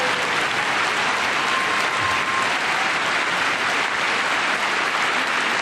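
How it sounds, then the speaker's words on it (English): Steady, dense applause from a large audience at a State of the Union address, loud and continuous throughout with no pauses. "now they're clapping"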